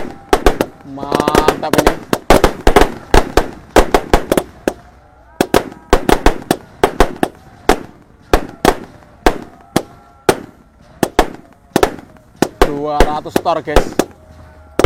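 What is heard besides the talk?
large 200-shot roman candle fireworks firing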